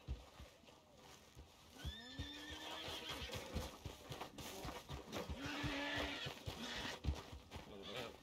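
A horse in a Western video game whinnies loudly and then again, while hooves clip-clop nearby in an uneven rhythm, with speech in the background.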